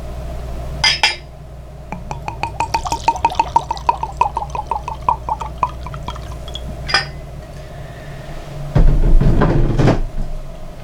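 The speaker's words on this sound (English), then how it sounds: "So what do you say we pour it now?" Evan Williams 1783 Small Batch bourbon poured from a bottle into a glass, a rapid run of close glugging clinks lasting several seconds, bracketed by a few knocks and a bottle set down at the end.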